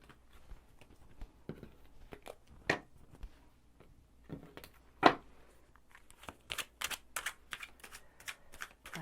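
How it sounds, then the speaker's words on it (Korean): Tarot cards are shuffled in quick riffling bursts, crisp and close, with short pauses and a louder flurry of riffles toward the end. "카드 섞어 볼게요."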